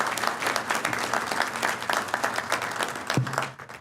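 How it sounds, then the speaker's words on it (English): An audience at a 2012 Veterans Day program applauds elected officials, with brisk, close clapping from a crowd that swells briefly and then tapers off. "Let's give a round of applause for all of our elected officials."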